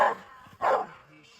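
A dog barks on command, giving two sharp, close barks about half a second apart, each short and loud against a quiet background.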